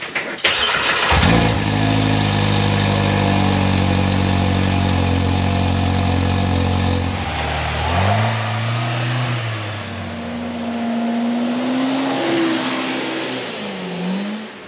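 A Polaris Pro R side-by-side on its stock exhaust cranks, starts and holds a loud, steady idle close by, then the engine note rises and falls through several revs, with no one talking.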